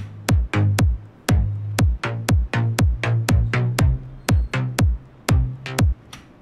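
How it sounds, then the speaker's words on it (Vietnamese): Deep house or slap house kick drum with sidechained bass layers programmed in FL Studio, the punchy kicks landing in a steady four-on-the-floor pulse while the bass ducks and swells between them, loud and alone. "Tiếp theo là mình sẽ add tiếng kick. Để add tiếng kick vào thì các bạn hãy nhớ sidechain tiếng bass của chúng ta nhé"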